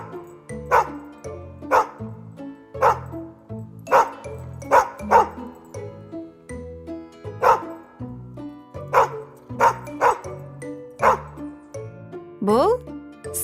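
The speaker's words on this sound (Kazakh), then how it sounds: "Бұл ит. Ит. Оф, оф, оф." A dog barks close and loud, in about a dozen sharp barks spaced roughly a second apart.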